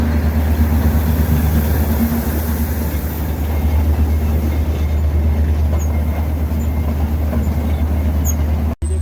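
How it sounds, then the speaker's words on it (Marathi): The Matheran mini train rumbles steadily close by on its hill railway, with a loud, continuous low engine and wheel drone throughout that cuts off abruptly at the very end. "ही मालगाडी आता माथेरान माथेरानला जाणारी गाडी आहे"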